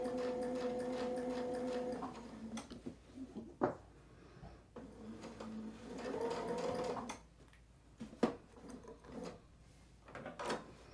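A sewing machine runs a zigzag stitch in steady whirring stretches that stop and start, with mechanical clicks and knocks during the pauses and no talk.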